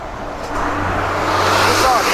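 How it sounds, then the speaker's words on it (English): A bus passes close by a cyclist riding on a road, its broad rumble and low drone swelling up loud and steady across the clip. "I got a bus passing me here"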